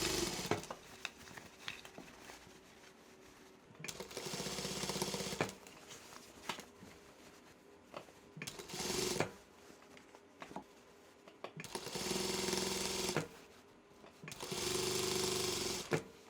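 Sewing machine stitching a fabric bag, running in several bursts of rapid mechanical whirring separated by quieter pauses, close and clear.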